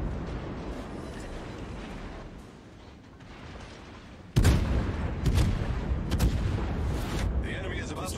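Warship main guns fire shells in World of Warships, a heavy booming salvo that cuts in sharply over low ambient rumble, followed by further deep blasts and a rolling roar.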